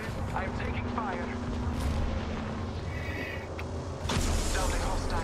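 Gunfire and explosive booms from a video game's Big Team Battle multiplayer match, with bursts and rumbling blasts layered over continuous battle noise, a sharp louder impact about four seconds in.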